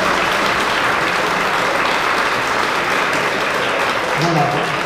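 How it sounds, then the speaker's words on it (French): An audience of about 3000 at a lycée Erasmus party in Dunkerque applauds, dense steady clapping filling the room throughout, with a voice briefly heard near the end. "on peut les applaudir encore une fois"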